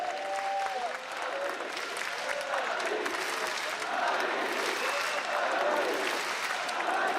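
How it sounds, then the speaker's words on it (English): A large crowd at an esports world championship semifinal roars with cheering and applause in a continuous loud wash, with voices rising in chant-like swells; a commentator's voice is faintly present beneath the noise. "We're hearing the chants again from the audience."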